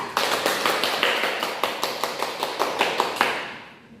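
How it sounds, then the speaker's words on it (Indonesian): A classroom group claps in unison for a student team after a science project presentation, a steady run of sharp, evenly spaced claps that fades out after a few seconds. "Silakan berikan aplaus kepada kelompok 2."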